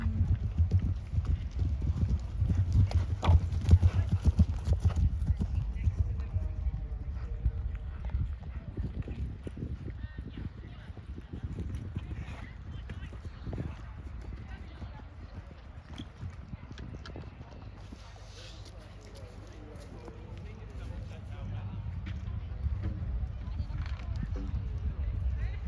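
Horse hooves clip-clop at a show jumping and cross-country event during the Cotswold Cup Championships, a steady galloping rhythm close by, with a rider's voice and encouraging talk over it.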